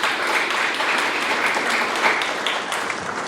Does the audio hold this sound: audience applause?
yes